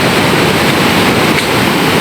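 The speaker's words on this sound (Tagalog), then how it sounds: "Mukhang malaki pa ang mga alon." Big sea waves pound the shore during Typhoon Kristine, a loud, continuous roar of surf and wind-driven spray filling the whole moment with no break and no voices.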